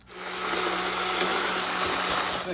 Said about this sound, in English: I'm gonna hit this with my my stick blender